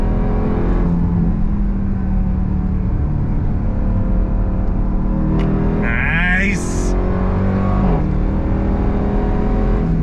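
A 2024 Dodge Durango SRT Hellcat engine roars steadily under load, pitch climbing then shifting as it revs, with a brief spoken remark over the drone.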